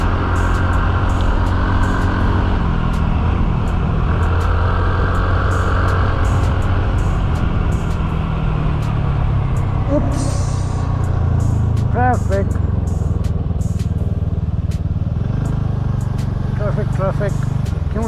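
Road traffic in a jam near Kullu Manali: engines of cars, trucks and motorcycles rumble close by, with several short horn honks partway through and people talking over the noise.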